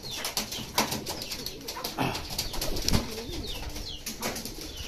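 Racing pigeons coo in low, throaty bursts amid fluttering wings and sharp chirps from other birds, a busy, close-up flock.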